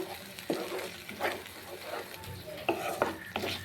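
Spice paste frying in a pan for dhokar dalna gives a low, close sizzle broken by several sharp scrapes and clicks of a spoon stirring against the metal.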